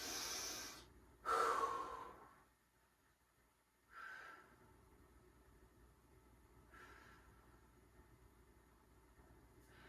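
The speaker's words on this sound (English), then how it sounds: "Take a couple of deep breaths with me." Several deep breaths during a chest stretch in a beginner cardio and strength workout: a strong near inhale and exhale, then softer breaths spaced a few seconds apart, with no talking.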